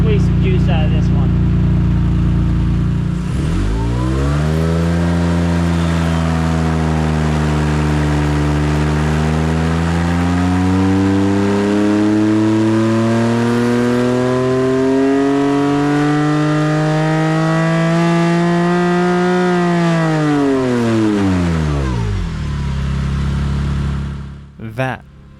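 A rebuilt 3.9-liter Porsche Cayman S flat-six, a 2006 987.1, revs at full throttle on a dyno, its loud close engine note sweeping up in pitch for about twenty seconds and then falling away as the run ends.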